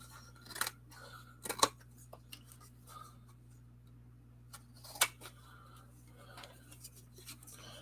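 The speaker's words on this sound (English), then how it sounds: "grab a pair of scissors here. I just got it on crooked, so I'm gonna have to trim my card just a little." A pair of scissors trims a thin sliver off a trading card, giving a few quiet, close snips spaced irregularly over a soft room background.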